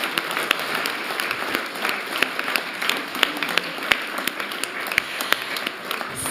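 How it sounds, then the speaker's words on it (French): Applause from an audience at a doctoral graduation ceremony, a thin, scattered patter of hands with a few sharper individual claps standing out, held at a moderate, steady level throughout. "Je crois qu'on peut l'applaudir très très fort."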